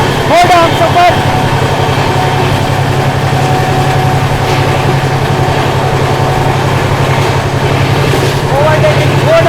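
The 12877 Ranchi Garib Rath at speed as it overtakes the Godda Humsafar: a loud, continuous rumble of rolling wheels and engine heard from on board, steady throughout with a few brief higher squeals.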